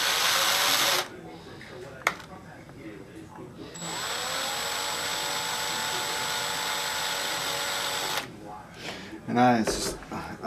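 A power drill whirs steadily for several seconds, with short bursts before and a clunk afterward, close to the microphone, working on cracked plastic toy gears.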